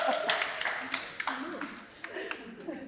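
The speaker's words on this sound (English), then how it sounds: "Give them some round of applause." Studio audience applause on a UK dating show, steady close clapping from a small crowd with scattered sharper claps, running under a speaking voice.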